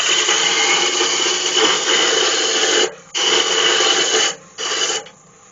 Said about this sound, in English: This is the piece of oak I'm just roughing down there. Just using my roughing gouge on there.